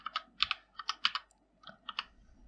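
Rapid bursts of keystrokes on a computer keyboard as msconfig is typed, several close clicks in quick groups with short pauses between, crisp and near with no talking.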